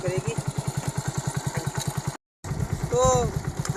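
A motorcycle engine idles after starting, with an even, rapid thumping beat up close. It cuts out briefly, then resumes with a brief rising whine before settling back to idle.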